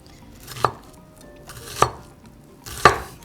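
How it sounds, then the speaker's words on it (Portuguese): Three sharp, well-spaced knife strikes on a cutting board while an onion is cut into brunoise, each a crisp close thud followed by quiet. "cortar cebola brunoise é assim, eu deixo um dedinho aqui, corto nesse sentido"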